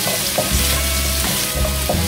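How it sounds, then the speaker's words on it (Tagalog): Minced garlic sizzles and crackles in hot cooking oil in a pan, a loud continuous frying hiss with light stirring scrapes throughout, no voices. "Magigisa tayo ngayon ng bawang. Ito yung minced garlic natin."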